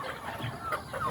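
Backyard hens cluck softly and intermittently at close range over a quiet background, in one brief burst of low murmuring calls.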